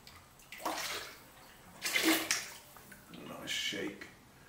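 A porcelain pot is dipped into liquid glaze with glazing tongs, giving three short, quiet sloshing splashes of liquid close by, with a soft voice in the background.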